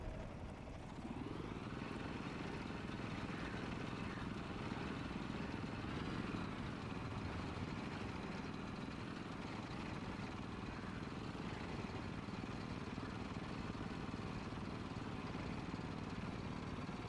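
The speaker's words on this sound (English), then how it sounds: "They sound more or less like a lawnmower, not like a tank or a motorbike." Tank engines in the World of Tanks video game drone steadily and continuously at a fairly even level, a mid-pitched, lawnmower-like engine hum with faint clatter running throughout.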